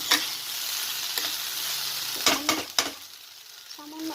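Tondli (ivy gourd) curry sizzles in a pan while being stirred and sautéed, a steady hiss broken by several scraping clinks of a spatula against the pan, close up with no talk.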